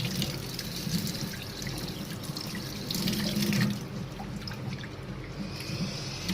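Running tap water splashes continuously into a sink as food is rinsed by hand for street-style cooking, a close, steady gush with small shifts as the stream hits the food and basin.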